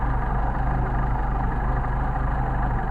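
A Mercedes 190SL engine with Solex carburetors idles steadily, a close, even low rumble with a constant throb and no change in pace throughout.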